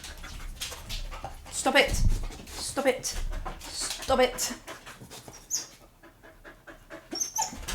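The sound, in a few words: dogs whimpering and panting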